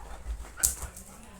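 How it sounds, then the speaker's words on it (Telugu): A dog gives a short whimpering yelp near the microphone, one brief high-pitched cry amid quiet background with faint low rumble. "ఇజ్జు అంటే చాలు కుక్క వచ్చిందని తెలుసు దానికి."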